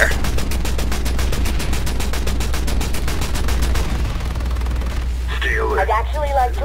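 Rapid, evenly spaced gunfire at an air turret in a video game rattles loudly for several seconds, then stops as a voice speaks over the background din.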